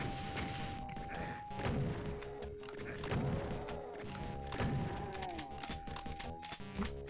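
Rocket explosions and blasts in Final Doom: Plutonia, several heavy thuds and booms in quick succession over continuous game noise and monster sounds, fairly loud and dense.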